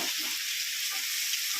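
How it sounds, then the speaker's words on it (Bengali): Chicken pieces sautéing over fried onions in a pan, giving a dense, continuous hiss of sizzling oil close by with faint stirring movements underneath. "তো চিকেনটা দিয়ে এবার কষা হবে ভালো করে"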